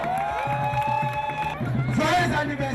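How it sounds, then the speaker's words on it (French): Family and guests applaud and cheer loudly for a centenarian grandmother at her 100th birthday celebration, clapping mixed with whoops, a sustained tonal cry and crowd chatter, swelling louder toward the end. "qu'on applaudit très fort"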